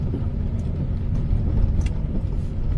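A car rolling slowly toward a ferry check-in desk, its engine a low, steady rumble close by with faint surrounding noise.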